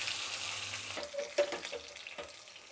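Mustard seeds, cumin and garlic crackle in a little hot oil for a tempering, a soft sizzle with scattered sharp pops and light stirring, fairly quiet and close with no talking.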